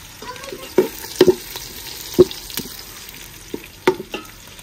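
Onions and fenugreek frying in a pan, a steady sizzle broken by sharp scrapes and clicks as a spoon stirs the browning mix, with no voices.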